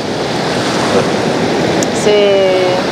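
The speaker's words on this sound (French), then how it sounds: "les gros rouleaux, c'est un peu comme les basses, et puis là, les petites vaguelettes, c'est les sons aigus" Loud, continuous wash of ocean surf rushing and breaking on the shore nearby, big rollers and small ripples, with a steady roar and no distinct pauses.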